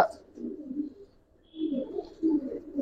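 A red khaki pigeon gives low, soft cooing in two or three murmuring phrases, fairly faint and close, with a quiet pause between bursts.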